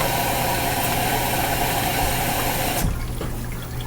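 Warm water gushes steadily into an LG WM3600HWA washing machine on a speed wash cycle with a low mechanical hum, then cuts off abruptly near the end, leaving a quieter background.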